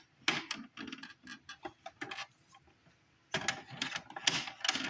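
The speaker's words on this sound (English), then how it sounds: "And then you pick the cover of the printer up." Someone lifts the cover of an Epson EcoTank ET-4800 printer, making a series of close, sharp plastic clicks and rattles, a short pause, then another cluster of clacks.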